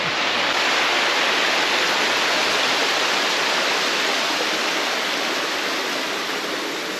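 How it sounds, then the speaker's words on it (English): A waterfall roars steadily and loudly, a dense, unbroken rush of falling water with no voices or other sounds. "And we found one of the waterfalls that we were looking for."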